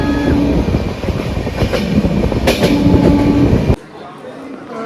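A passenger train at Solapur station gives off a loud, steady rumble with clattering wheels and a faint background hum of people. The noise drops off abruptly near the end.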